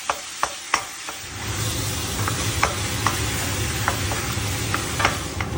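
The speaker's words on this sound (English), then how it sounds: "Nice, cook this ground beef up." Ground beef browning in a pan for homemade chili, a steady sizzle and crackle of frying meat with a few sharp scraping knocks of a utensil stirring, close and alone without speech.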